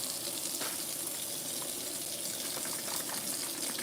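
Tap water runs steadily in a kitchen as hands are washed between cooking steps, a continuous broadband hiss and splash close by with small fluctuations and no speech.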